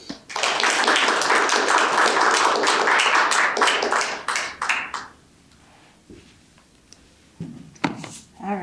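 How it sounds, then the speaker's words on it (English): An audience applauds after a speaker's introduction at a history center, a dense burst of clapping lasting several seconds before fading into scattered claps and room noise. "If everyone wants to give a big round of applause for Dr. Martin."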